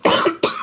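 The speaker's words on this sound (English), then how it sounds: "because I keep coughing if I talk" Two close, harsh coughs from one person, a short burst and then a second after a brief pause, loud and near with no talk around them.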